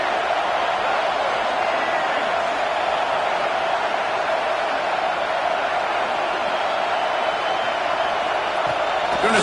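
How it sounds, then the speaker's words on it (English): A football stadium crowd roars in a steady, unbroken wash of distant cheering and shouting that stays even throughout, with no single voice standing out. "This crowd trying to make life miserable for this offense."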